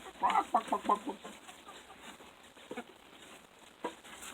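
A few Buff Orpington chickens cluck in quick bursts nearby at the start, then fainter scattered clucks follow over a quiet background.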